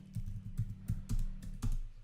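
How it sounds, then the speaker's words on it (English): Typing on a computer keyboard, a series of distinct close key taps in an uneven rhythm, about six strikes in two seconds, with no voice. "just by typing."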